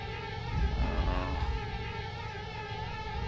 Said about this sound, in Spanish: ahí están las abejas